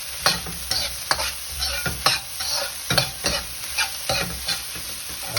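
Spring onions and beansprouts being stir-fried in vegetable Singapore fried rice, a steady hiss of sizzling under repeated scraping strokes of a utensil against the pan, with no talking.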